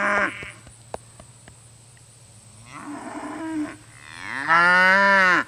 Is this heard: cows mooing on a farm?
yes